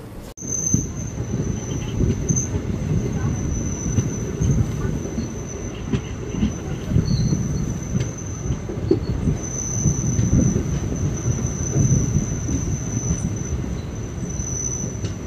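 The Mettupalayam–Thoothukudi Express rolls into Kinathukadavu station with a steady rumble of wheels on rails, light clatter and occasional squeals, with a faint high tone running through, heard from aboard the train.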